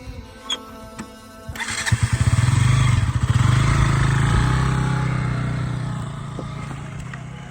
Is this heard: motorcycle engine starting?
yes